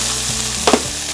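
Food sizzling in a hot pan on an electric induction cooktop while being stirred, a steady close frying hiss with a couple of brief scraping stir strokes, no voices.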